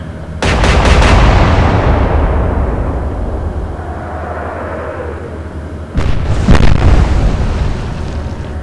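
Naval guns fire during an Atlantic Fleet battle at Jutland, heard as two loud, booming salvos, the first with a long rolling decay over several seconds, the second following after a pause, both heavy and close.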